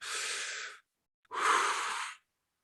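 Two slow, deep breaths used as a calming exercise for regulating the nervous system, each a soft airy rush lasting under a second, separated by a short pause, close and clear with no talk.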